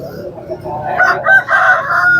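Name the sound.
rooster crowing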